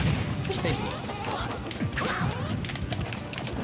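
Super Smash Bros. Ultimate up smash attack, heard as crashing hit effects within dense, continuous game audio full of whooshes and impacts, with voices talking over it.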